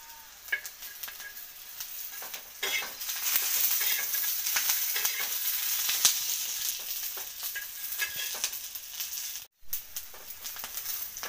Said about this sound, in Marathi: आता आपण त्याच्यात लसूण घालू.